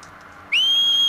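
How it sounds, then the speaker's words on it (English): A loud, sharp whistle calling a horse in Horizon Zero Dawn, one sustained piercing tone that starts abruptly and holds steady after a quiet moment. "That was a loud whistle."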